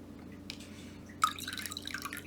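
Water is poured and drips into a container, a couple of faint single drips and then a brighter trickling splash, quiet and close in an otherwise still room.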